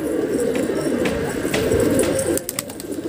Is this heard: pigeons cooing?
yes